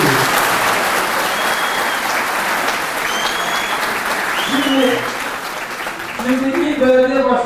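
Sustained applause and cheering from a large audience at a HÜDA PAR political rally announcing mayoral candidates in Turkey, a steady dense roar of clapping that dips briefly near the end before swelling again, with a voice faintly over it.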